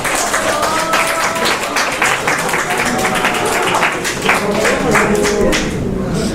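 Applause from a church congregation during a sermon, a dense sustained wash of many hands clapping close and loud throughout, with a few voices mixed in.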